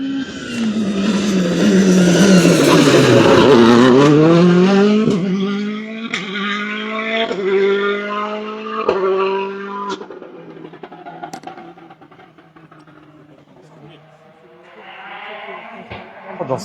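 A Citroën DS3 WRC rally car powers through a hairpin during a test session, its engine note rising and falling as it brakes, turns and accelerates away, with voices talking over it.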